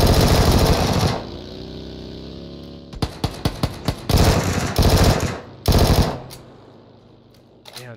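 Automatic gunfire in the video game PUBG, on the Miramar map, comes in loud rapid bursts: a sustained stream, then a string of distinct shots, then further long bursts before fading.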